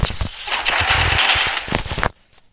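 Rapid automatic gunfire in the video game Garena Free Fire rattles loud and dense for about two seconds, then cuts off abruptly into near silence.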